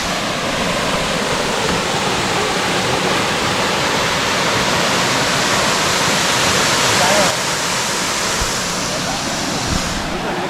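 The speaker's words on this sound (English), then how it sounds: "we are now at the Blue Basin Falls here, and it's real beautiful" Blue Basin waterfall in Diego Martin, Trinidad, pours in a steady, loud, broadband roar heard up close, unbroken for the whole stretch.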